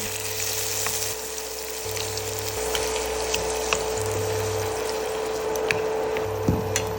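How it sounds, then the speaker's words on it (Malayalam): Marinated prawns fry in hot ghee in a pan for a steady, close sizzle with scattered crackles and pops and a few brief louder spits, with no talking. "നെയ്യ് നന്നായിട്ട് ചൂടായ ശേഷം നമ്മൾ മാരിനേറ്റ് ചെയ്ത് വെച്ച പ്രോൺസ് ഇതിലേക്ക് ഇട്ട് കൊടുക്കുന്നുണ്ട്."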